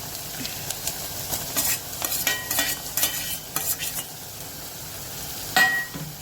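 Chopped tomato hits a pan of onion, garlic and chili for mung bean masala, frying with a steady close sizzle broken by repeated scraping stirs of a spoon against the pan, with no talk.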